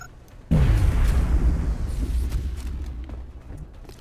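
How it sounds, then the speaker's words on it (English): Grenade detonating in the XCOM Long War game, a sudden loud blast after a moment of quiet, then a rumbling, crackling decay that fades over several seconds. "Grenade."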